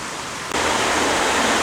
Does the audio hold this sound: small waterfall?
yes